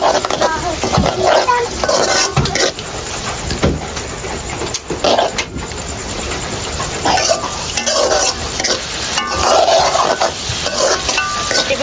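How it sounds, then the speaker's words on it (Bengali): Pasta made with flour being stirred together with tomato sauce and fried egg in a pan: continuous scraping and clattering of a utensil against cookware with faint sizzling, fairly loud and close, no talking. "সবশেষে দিয়ে দিচ্ছি টমেটো সস সবগুলো একসাথে খুব সুন্দর করে মিশিয়ে নেব"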